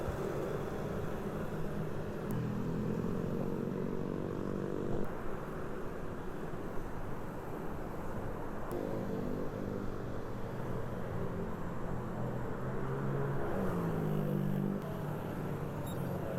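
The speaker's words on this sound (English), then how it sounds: "many motorcyclists take the chance to ride much faster" Motorcycles riding fast along a street in South Jakarta, a continuous traffic rumble with engine tones rising and falling as bikes pass by at moderate distance.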